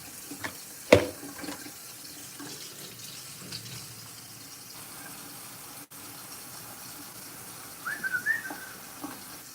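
Hot water runs from a tap into a sink, a steady, close rushing flow that continues throughout, with a knock early on and a brief squeak or whistle near the end.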